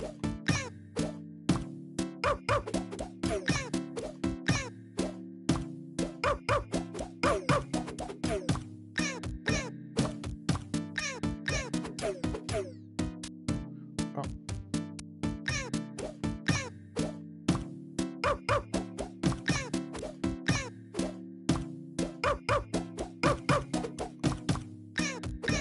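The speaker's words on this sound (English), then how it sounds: "meow, bump, meow," Sound effects from the PS5 VR game Dreams: short synthetic cat meows alternating with dull bump thuds in a fast, steady repeating pattern, clean and close throughout with no voices.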